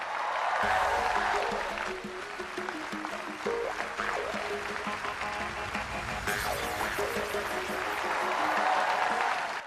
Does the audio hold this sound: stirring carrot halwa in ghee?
no